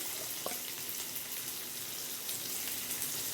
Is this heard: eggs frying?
yes